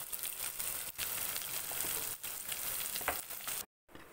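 Chopped onions and green chillies frying in a pan, a steady broadband sizzle that runs almost unbroken with brief crackles, then cuts out for a moment near the end.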